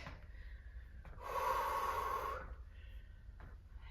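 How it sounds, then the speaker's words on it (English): A single strong, rasping breath swells and fades during a sprint interval workout, fairly close and alone over a low steady background hum. "Inhaling and exhaling."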